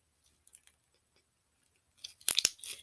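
Crunchy slime is squeezed and worked by hand: after near silence with a few tiny clicks, a short cluster of loud, close crackling crunches breaks out.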